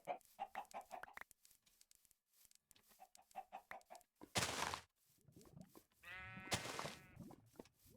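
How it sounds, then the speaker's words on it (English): Minecraft farm animals, chickens clucking in quick rhythmic runs and a sheep bleating in two loud drawn-out calls, close and clear, with no talk over them. "Another sheep. Some chickens."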